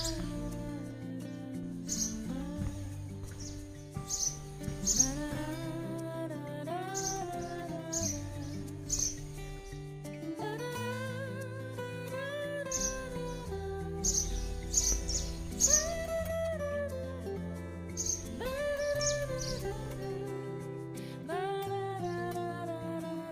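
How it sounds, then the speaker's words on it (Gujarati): Birds chirp and call in a village at morning, light scattered tweets rising over a continuous musical background, moderately close and never loud. "બર્ડ્સ સિવાય કોઈ નોઈઝ તમને સંભળાશે જ નહીં સવારની અંદર"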